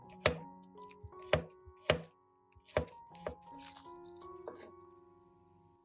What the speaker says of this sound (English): Prepare 5 to 7 cloves of garlic and slice them.